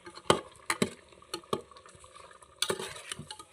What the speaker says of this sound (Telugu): కలపాలి ఫ్రెండ్స్ మంచిగా.